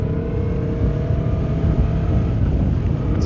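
A Lamborghini convertible driving the Passo del Rombo mountain pass in Italy, its engine a loud, steady drone close by that rises slightly toward the end.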